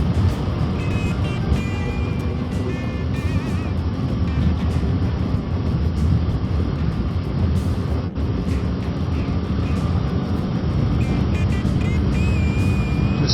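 Kawasaki Ninja 7 HEV hybrid motorcycle riding at speed and shifting up to sixth gear, a steady loud engine drone mixed with heavy wind rush throughout, with a brief dip around the shift.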